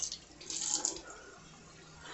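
Tap water splashes over grits in a kitchen sink, a brief rush of running water that fades to a quiet trickle.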